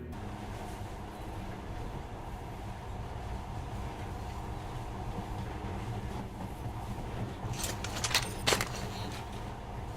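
A monorail train runs in the video game Metro Last Light, giving a steady, moderately quiet rumbling hum with a brief burst of clattering rattles near the end.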